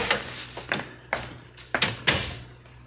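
A door is handled in an old-time radio drama, with several knocks and thuds that rise from a low background hum, including a latch click and a closing bump, all close by with no voices.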